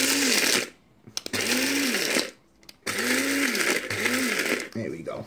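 Several short, loud blasts of a coffee grinder pulverizing cockroach colony food, a buzzing motor whine with gaps of near silence between the bursts.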